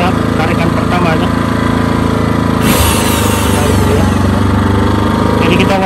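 A Hyundai HDG 2880 generator engine running just after starting, a loud, steady mechanical drone close by that briefly dips and shifts in pitch partway through.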